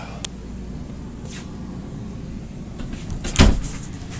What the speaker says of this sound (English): Pocket door, they latch closed and latch open.